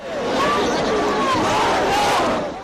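A dense crowd of cricket fans on Marine Drive in Mumbai, a continuous roar of voices and shouting that swells briefly and stays loud throughout.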